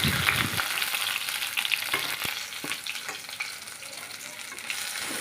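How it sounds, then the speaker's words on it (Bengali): Tilapia fish frying in hot oil in a wok, giving a steady, loud, dense sizzle with occasional sharp crackles and pops throughout. "কড়াইতে তেল গরম হয়ে গেছে একটা একটা করে মাছ দিয়ে ভেজে তুলে নিলাম"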